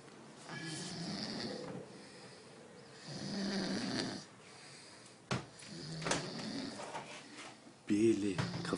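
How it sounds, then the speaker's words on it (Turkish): A person asleep snores in repeated rasping breaths, each a few seconds long with quiet gaps and a sharp snort near the end, close and fairly loud. "Horlama sesini göstereyim size."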